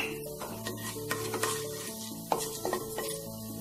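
Mustard seeds and urad dal hit a little hot oil for a mango chutney tempering, giving a soft close sizzle broken by sharp scattered pops and a few spoon scrapes, with no voices.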